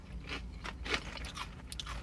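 Crispy tteok-bokki snacks crunch between the teeth in a quiet run of short, dry bites and chews, close to the mouth with no talk.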